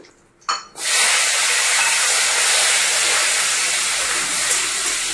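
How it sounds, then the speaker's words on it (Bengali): Fish roe is dropped into hot oil in a wok, setting off a sudden burst and then a strong, steady hissing sizzle close by that holds evenly to the end, with no voices. "কড়াইতে তেলটা গরম হওয়ার সাথে সাথেই মাছের ডিমটা দিয়ে দিয়েছে"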